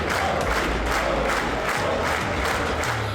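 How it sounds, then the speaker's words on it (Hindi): Members of Israel's Knesset cheer and shout together as India's Prime Minister Modi enters the parliament chamber, a loud, continuous crowd roar with rhythmic swells of voices throughout. "प्रधानमंत्री मोदी ने जैसे ही इजरायली संसद नेसेट में प्रवेश किया तो पूरा सदन उत्साह से गूंज उठा।"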